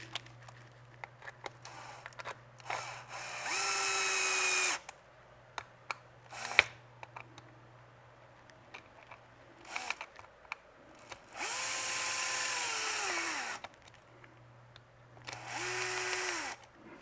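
A power drill tightens screws on a Traxxas Sledge RC truck chassis, sounding in three separate whirring bursts of about a second each, each with a rising and falling pitch, separated by quiet handling noises.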